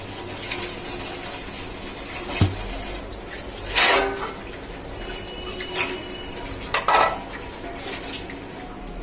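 Dishes are washed in a home kitchen, with metal utensils clinking and clattering in scattered sharp knocks over running tap water, several louder clanks standing out, and no speech.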